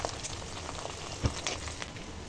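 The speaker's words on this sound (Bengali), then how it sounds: "এভাবে লাল লাল করে সবগুলো আমি এভাবে ভেজে নেব" Pui leaf fritters frying in hot oil give a steady, dense sizzle with crackling bursts and one brief louder pop midway, heard alone without talk.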